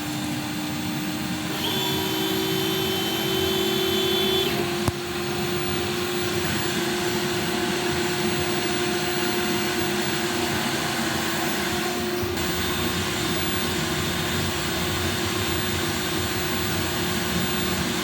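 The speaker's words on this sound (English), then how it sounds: "Full blast on the inline fan that I've got here." An inline fan runs at full blast with a steady, loud whooshing drone, close by and unbroken, with faint tonal whines and a brief click partway through.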